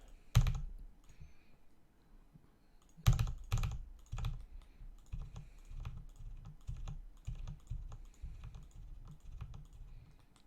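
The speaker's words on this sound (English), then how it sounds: "I kept bashing the keyboard." Typing on a computer keyboard with Cherry MX Red switches, two loud bursts of bashed keys followed by a steady run of quicker, softer keystrokes, close up with no talking.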